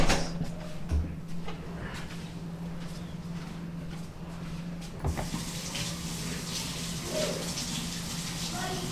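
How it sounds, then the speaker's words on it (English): Hands are washed under a running kitchen tap. After a quieter stretch with a low hum and faint voice, the water rushes on and keeps up a steady, close splashing stream until the end. "Wash my hands."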